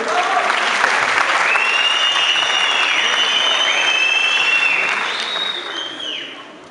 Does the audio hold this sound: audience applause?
yes